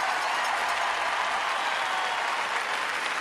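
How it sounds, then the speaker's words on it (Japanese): A packed arena crowd at the 2009 World Figure Skating Championships in Staples Center applauds and cheers after a men's free skate, a dense, steady roar of clapping filling the whole stretch. "この歓声ですよ"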